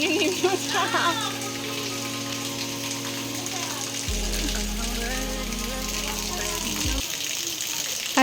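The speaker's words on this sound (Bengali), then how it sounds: "যা বৃষ্টি হচ্ছে তো এই সময় তো বেরোতে পারবো না" Heavy monsoon rain pours down outdoors as a dense, steady hiss, with a low droning hum and some voices also present.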